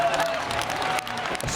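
Arena crowd at the Yubileyny Sport Palace in St. Petersburg giving an ovation after an M-1 Challenge MMA fight, a dense continuous wash of applause and cheering, loud and sustained, with a voice faintly underneath.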